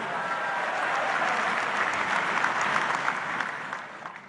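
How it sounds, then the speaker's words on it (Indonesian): Dense, sustained applause from a large audience at a Democratic Party congress, steady and loud throughout before tapering slightly at the end. "tepuk tangan untuk kita semuanya"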